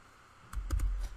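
A few quick keystrokes on a computer keyboard, a short cluster of close, crisp taps ending with a heavier press of the spacebar.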